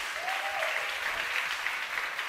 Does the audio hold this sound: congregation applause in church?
yes